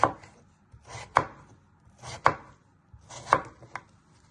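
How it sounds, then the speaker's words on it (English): A knife chops potato into small cubes on a board, making four clear, evenly spaced thuds about a second apart, each with a soft tap or two around it, close and without voices. "then you want to turn it around and chop it into little cubes."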